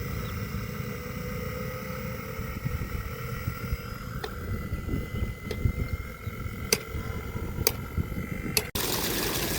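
An 1100W BLDC motor pump pumps water during a test after servicing, with a steady motor hum and rushing water, a few sharp clicks near the end and then an abrupt shift in the noise.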